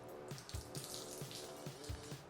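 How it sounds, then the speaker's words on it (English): Water is poured into a terry cloth ceramic coating applicator, giving soft, faint splashing with gentle repeated gurgling pulses close by. "I'm going to pour some water into it."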